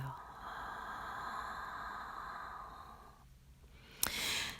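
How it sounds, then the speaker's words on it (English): During a hatha yoga session, someone takes a slow, audible breath: a long soft exhale fades out over three seconds, then a short sharp inhale follows, close and quiet. "1 or 2 more breaths. Inhale and exhale."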